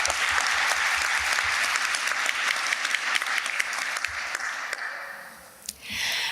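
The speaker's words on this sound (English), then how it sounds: "Let's give her another round of applause as we send her congratulations." Full audience applause at a university commencement ceremony, dense and steady before thinning into scattered claps and fading, with a brief rustle or voice at the very end.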